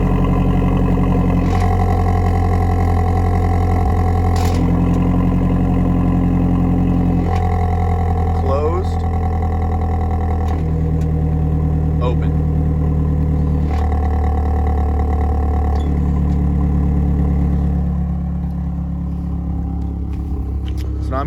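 A Mazdaspeed 3 idles with its exhaust cutout open, giving a loud, continuous low rumble that holds steady with slight shifts in tone and a few small clicks.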